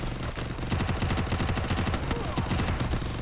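Rapid automatic gunfire in a shooter video game, dense bursts of shots rattling nonstop and loud over the game's background sound.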